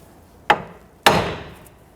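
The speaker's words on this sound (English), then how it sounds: "you can use a hammer, strike the knuckle right here while pulling up on this" Two sharp metallic hammer strikes on the steering knuckle of a 1992-1996 Toyota Camry, about half a second apart, close and loud, each ringing briefly before fading.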